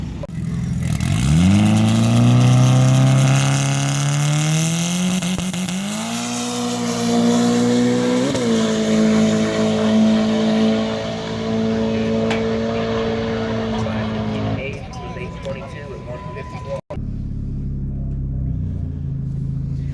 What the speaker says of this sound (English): the first pass, we're going to be racing a 1150 dial-in Civic